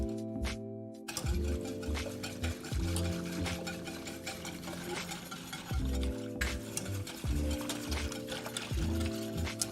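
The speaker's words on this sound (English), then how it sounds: "we're gonna whisk vigorously to take out any lumps" A whisk beats roux gravy vigorously in a pan, scraping and clinking against the metal in quick repeated strokes, close up and continuous after a brief quiet start.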